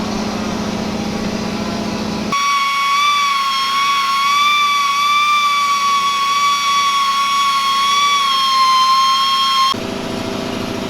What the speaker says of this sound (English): It is a very slow process with the die grinder. It takes a long time and it's loud and annoying